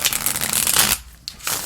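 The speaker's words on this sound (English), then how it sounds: "got to shuffle that one away" Tarot card deck being shuffled by hand, a close, loud rapid riffling flutter for about a second, a short pause, then a quick tap and another brief burst of shuffling.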